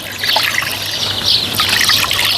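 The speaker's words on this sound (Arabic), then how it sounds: "رح نزل كوب ونص من المي" Water pouring steadily into a cup or bowl for a fish tray marinade, a continuous bright trickling splash lasting a couple of seconds, close and fairly loud with no talking.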